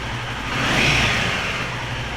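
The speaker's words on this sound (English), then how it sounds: "Well, that's how the bike sounds now." A motorcycle engine, its tank underside wrapped in sound-deadening material, runs steadily up close with a brief swell in revs midway, a muffled continuous drone.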